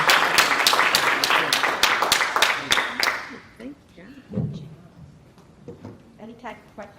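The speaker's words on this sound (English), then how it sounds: "let's give our esteemed panelists a round of applause" A panel audience at a diversity in STEM event claps for the panelists, with brisk sharp applause that fades out after about three seconds, and then a person starts talking.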